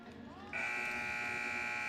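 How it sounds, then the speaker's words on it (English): A loud, sustained electronic final buzzer at a basketball game sounds abruptly and holds steady over faint crowd murmur. "So we'll just wait for the sound of the final buzzer."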